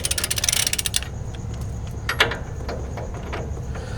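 A wrench ratchets on a van's bolts, tightened a few turns at a time in an X pattern during a van conversion: a rapid burst of ratcheting clicks, then scattered single clicks and one sharper clack over a low background hum.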